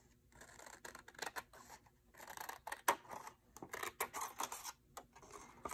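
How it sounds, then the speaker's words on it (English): Scissors snip through paper while cutting out a tree-trunk outline for a children's craft, a run of quick, crisp close-up snips and crunches in an uneven rhythm, with no voices over them. "We open and close to move our scissors."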